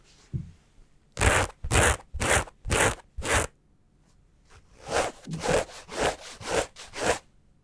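Multicolored-weft selvedge denim of cotton and 23% polyester is scratched in quick rhythmic strokes, five close scrapes, a short pause, then six more, close up and fairly loud.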